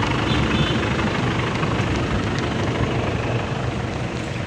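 A service vehicle sits idling outside a building, giving off a loud, steady engine drone with a broad rushing texture that stays constant throughout and has no talk over it.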